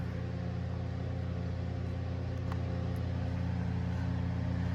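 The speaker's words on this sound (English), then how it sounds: "Now it's starting to pick up, starting, stalling out." A turbocharged 6-litre engine in a Dodge Grand Caravan runs with a steady, loud mechanical drone, no clear start or stall audible, just a constant close hum throughout.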